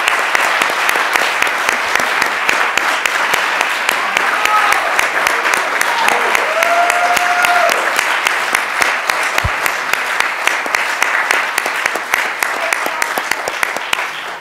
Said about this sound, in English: So I want to have her stand up and have a round of applause.